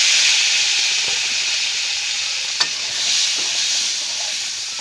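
Potatoes hit a hot pan and sizzle with a steady, close hiss that lasts throughout, with one brief clink partway through and no talking.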